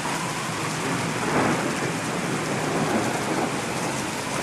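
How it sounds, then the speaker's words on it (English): A summer thunderstorm in Dunedin, New Zealand, with heavy rain pouring in a dense, constant hiss and a low thunder rumble swelling briefly, steady and loud throughout. "there's a thunderstorm going on in the start of summer, around summertime"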